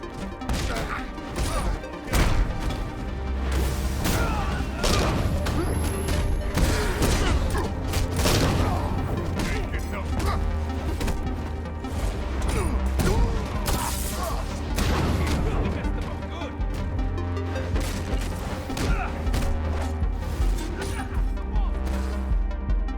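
Gunfire and combat from Red Hood in the Gotham Knights video game: a dense, loud, continuous barrage of shots, impacts and crashes with mechanical clanks layered over a steady game soundtrack, no speech.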